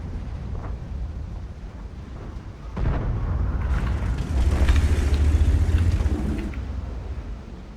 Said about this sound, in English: So many explosions coming out of that gun.